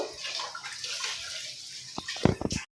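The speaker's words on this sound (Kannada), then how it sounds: "ಅಕ್ಕಿ ನೀಟಾಗಿ 2 ಸತಿ ತೊಳ್ಕೊಳ್ಬೇಕು." Rice is washed by hand in water, with sloshing and swishing that builds to a few louder splashes near the end, close and steady with no talk.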